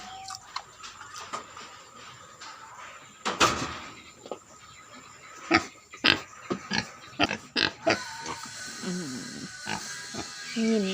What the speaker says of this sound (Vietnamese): Đây là con heo đực cả nhà.